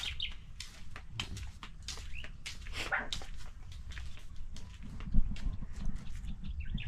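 Dogs barking faintly in an outdoor rural yard, scattered barks and whimpers amid bird chirps and a low background rumble.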